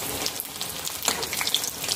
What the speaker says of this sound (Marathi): तळून घेणार आहोत आता आपण